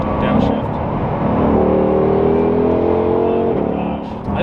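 A modified car engine with an upgraded pulley, tune, exhaust and intake revs hard and steadily through downshifts, loud and close, with sustained rising and falling engine tones and a person talking over it.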